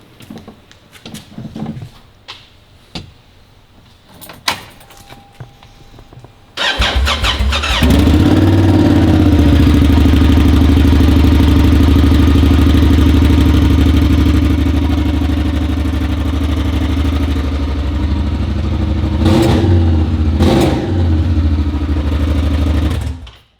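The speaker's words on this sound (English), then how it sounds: "I don't think it would be a proper exhaust video if we didn't start it without the muffler." A Honda Pioneer 1000 side-by-side, catalytic converter removed and run with no muffler, sits quiet through faint clatter, then fires up abruptly and roars loud and raw, revving and holding a harsh, steady drone until it shuts off.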